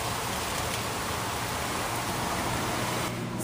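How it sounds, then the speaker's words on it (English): Steady rain falls outside on a quiet rainy day, a dense continuous patter that is loud and even throughout, with no voices. "I love when it's raining."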